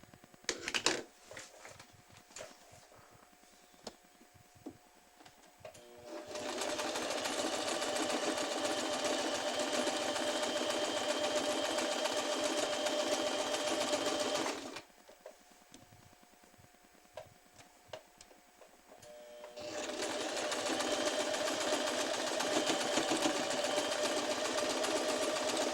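A sewing machine stitches ruffle elastic in two long runs of a fast, steady whirring hum, separated by a quieter pause with light ticking and handling sounds, then resuming at the same even speed.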